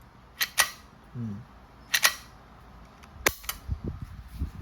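An Umarex Glock 19X CO2 airgun gives several sharp metallic clicks and snaps as it is handled, spaced irregularly, close and distinct against a quiet room.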